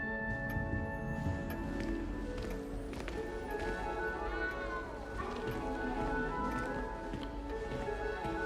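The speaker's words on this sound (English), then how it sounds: "You don't need to be frightened, little cat." A cat in the video game Hogwarts Legacy meows a few times over steady, layered in-game music and ambience.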